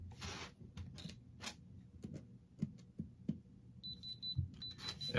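Supreme diamond tester testing moissanite stones, faint sparse clicks and a short steady high beep partway through, close and quiet with no talk.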